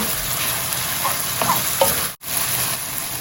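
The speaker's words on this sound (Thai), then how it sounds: "ผัดให้ส่วนผสมทุกอย่างสุกกลมกล่อมเข้ากันดี" Minced pork stir-fried in a pan for a Thai morning glory dish, giving a steady, close sizzle with a few soft stirring scrapes and one brief dropout; no talking.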